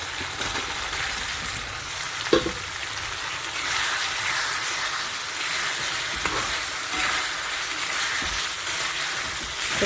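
An egg sizzles and crackles in hot oil over fried poppy seed paste, a steady close frying hiss lasting throughout with a couple of brief clinks near the start and middle.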